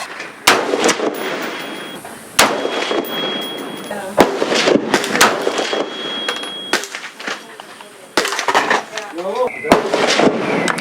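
Rapid rifle gunfire from an AR-15 or AK-47 at an outdoor range, with a dozen or more loud, sharp cracks in irregular bursts and a few brief quiet gaps, and some talking mixed in.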